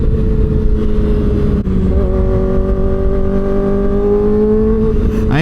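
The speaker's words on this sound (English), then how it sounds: "That was straight full throttle hard shifts." Motorcycle ridden at full throttle with hard shifts, a loud close engine roar whose pitch climbs steadily, with a brief dip at a gear change before climbing again.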